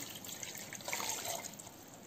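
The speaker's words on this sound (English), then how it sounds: "So here I pour the milk also" Milk being poured in a soft continuous trickle, quiet and close, with no voices.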